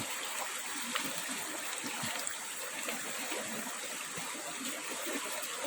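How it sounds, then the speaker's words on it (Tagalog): A flooded river rushes by in a steady, unbroken wash of water, fairly soft and distant, with no voices over it. "baha ang ilog"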